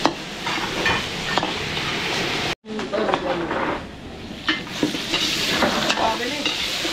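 Garlic and onion sauté in a large pan at an outdoor fiesta cook-up in Floridablanca, Pampanga, a loud steady sizzle with repeated stirring scrapes, briefly cut off and then resuming, while voices murmur around it.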